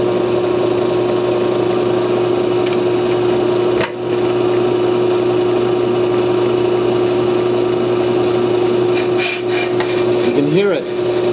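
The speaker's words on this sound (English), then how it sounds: "The cutter is just touching the rotor." An Ammco 4000 brake lathe hums steadily as its cutter lightly touches a spinning brake rotor, a constant tonal whine with faint scraping and a sharp click partway through.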